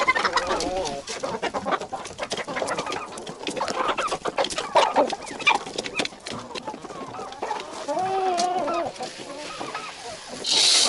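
Several chickens cluck and murmur close by while eating oats, with busy pecking and scratching sounds, a continuous chorus with a sharper squawk near the end.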